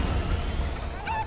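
A chicken in the Fortnite video game squawks in a short honking burst, loud and close, with no talk over it.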